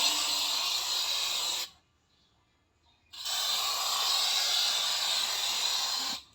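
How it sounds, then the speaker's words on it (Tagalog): Insect killer spray hisses from an aerosol can in a kitchen, two long continuous bursts close to the microphone separated by a short silent pause. "Mag-spray na rin ako dito."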